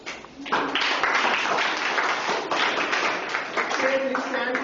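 A classroom of students clapping for a classmate, dense continuous applause that swells quickly and holds steady, with a voice speaking briefly over it near the end.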